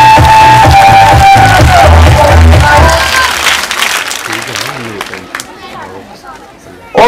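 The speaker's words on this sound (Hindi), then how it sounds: "आपको मैंने कहा, मैंने की क्लैपिंग करें," An audience at a comedy show claps and chatters loudly over music at first, then the noise thins to scattered hubbub and crowd voices that fade down before a sudden burst at the very end.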